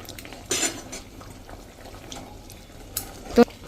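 A spoon scrapes and clinks against a pan while undhiyu, a mixed vegetable dish, is stirred with lemon juice; two soft bursts of stirring, then a sharp clink, with a gentle sizzle underneath.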